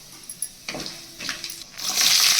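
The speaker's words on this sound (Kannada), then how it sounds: "ಸಾಸಿವೆ ಎಲ್ಲ ಸಿಡಿಬೇಕು" Mustard seeds hit hot oil in a pan for vegetable upma, with scattered close crackles and pops that build into a louder, continuous sizzling hiss by the end.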